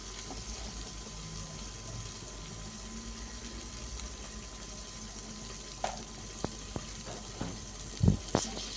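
Spiced pointed gourd paste frying in oil for potol bata makes a faint, steady low sizzle with soft bubbling, broken near the end by a few close clicks and scraping knocks from stirring.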